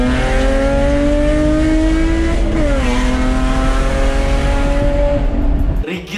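An RWB-style stanced car on air suspension drives at speed, a loud sustained engine drone with a pitch dip mid-run as it shifts, ending abruptly with a rumble.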